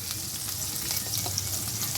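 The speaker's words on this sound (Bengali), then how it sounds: "আমি রসুন কুচিটা দিয়ে দেবো কাঁচা লঙ্কা কুচি, দিয়ে একটু নেড়ে নেব" Chopped garlic and green chili frying in a pan for bread pakora filling, a steady close sizzle with soft scraping stir strokes running throughout, no talking.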